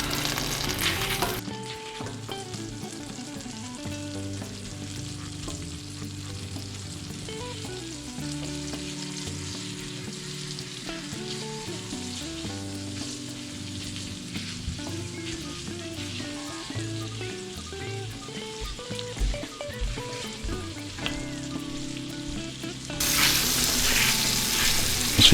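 Sausage sizzles steadily in a pan for gravy while a utensil breaks it up, a continuous close frying hiss with soft scraping and stirring throughout, growing louder near the end.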